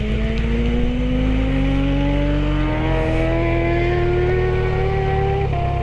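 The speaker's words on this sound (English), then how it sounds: "letting the clutch out slowly, a little bit of throttle, pulling away" A motorcycle pulls away as the clutch is let out with a little throttle, its engine note rising steadily then dropping as it shifts up into second and climbs again, loud and close with no talking.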